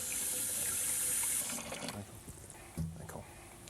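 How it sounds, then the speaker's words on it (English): Tap water rushing into a big cooking pot, a loud hiss at first that settles into lower, uneven splashing as the pot fills. "we got a big pot. Just fill up some water."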